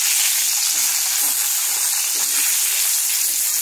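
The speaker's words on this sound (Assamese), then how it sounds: "মই অলপ তেল দি গোটেইখিনি মই তেলত আকৌ ভাজি ল'ম।" Taro leaf fritters frying in a little oil, a steady bright sizzle and hiss holding evenly throughout, close and fairly loud with no talk over it.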